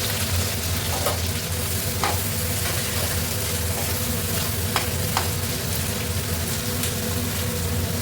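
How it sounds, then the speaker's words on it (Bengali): Sliced onions frying in plenty of oil in a wok for biryani give a dense, constant sizzle with scattered sharp crackles and pops, close and even in level, with no talking. "বেরেস্তাটা ভালো করে লাল লাল করে ভেজে নেব"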